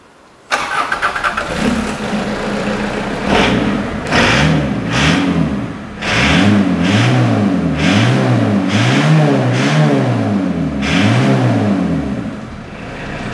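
A car engine fitted with a second-hand new battery cranks and catches, then revs hard in repeated rising and falling surges, loud and close, with no talk over it.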